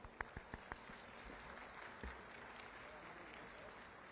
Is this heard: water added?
no